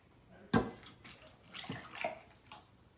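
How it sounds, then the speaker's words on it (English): Hot liquid mixture splashes onto chocolate in a container, then pours and trickles in short uneven bursts, close and fairly quiet. "Now we're gonna pour the hot mixture in."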